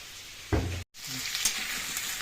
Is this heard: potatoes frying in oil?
yes